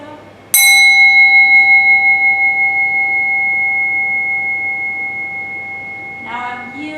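A single struck bell rings once during a wellness workshop, giving a bright, clear tone that sustains and slowly fades over several seconds. A voice is heard faintly toward the end.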